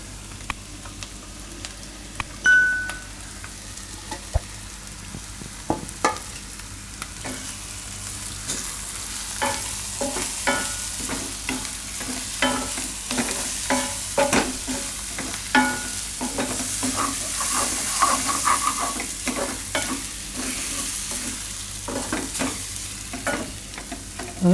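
Ground moong dal is stirred and fried in a pan over low heat for a stuffed paratha filling: a steady soft sizzle with frequent scraping strokes of the spoon, alone and without talk.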